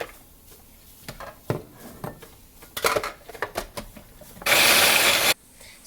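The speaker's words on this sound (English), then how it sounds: "I'm going to blend them in my food processor." A kitchen food processor blends walnuts in one loud, steady whirring burst of about a second, preceded by scattered clatter and scraping as the machine is handled.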